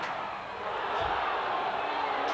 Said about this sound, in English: Just listen to all that applause.